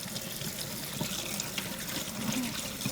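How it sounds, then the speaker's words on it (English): Turkey wings are rinsed under a running tap, with a steady faint splash and trickle of water and small sloshing shifts as the meat is handled. "You want to give it a good feel while you're rinsing it."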